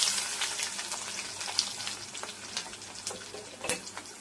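Curry leaves and cumin seeds crackle and sizzle in hot oil for poondu kuzhambu, a steady close hiss broken by small scattered pops with no voices.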